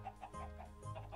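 Minecraft chickens clucking in a quick series of short bursts during a chicken race minigame, with game music and a low drone running underneath.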